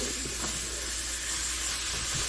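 Ground beef seasoned with cumin and spices sizzles in a hot pan as it is stirred, a steady close frying hiss with soft scraping of the mixing.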